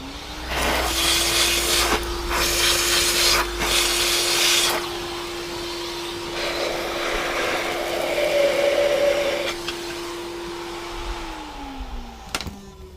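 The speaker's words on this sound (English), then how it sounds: "I'm going to vacuum that out again." A vacuum cleaner sucks debris out of an Ajax/Myers 1 1/2 inch piston pump during an overhaul, a loud steady whining drone with rattles as bits are drawn in, then the motor winds down near the end.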